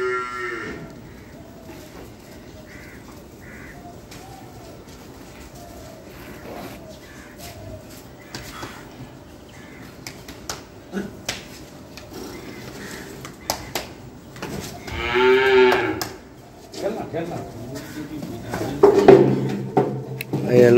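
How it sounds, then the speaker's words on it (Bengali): A cow moos several times while being led onto a digital livestock weighing scale at a cattle weigh-in, the calls loud and near, with a person talking throughout. "এবারে আসছে 7 নম্বর গরু,"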